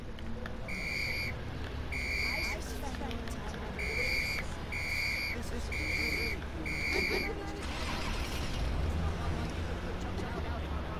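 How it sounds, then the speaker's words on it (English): A police whistle in the LEGO City Undercover video game sounds in a series of about seven short, shrill, evenly spaced blasts, followed by a burst of noise, with voices underneath. "Now where did I put my police issue whistle?"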